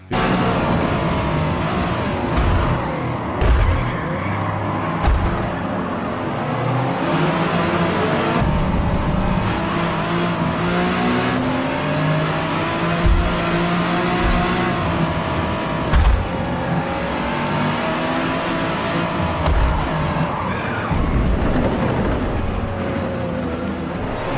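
Engines in a Forza GT racing game drone and rev steadily throughout, with recurring gear shifts and occasional passing surges, fairly loud and continuous with no voices.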